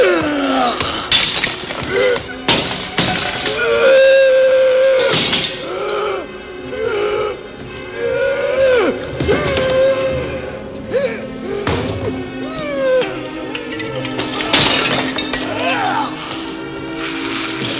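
A grotesque human-shaped monster from a Frankenstein film smashes up a laboratory: repeated loud glass shattering, crashes and thuds mixed with groaning, growling vocal sounds and dramatic movie audio.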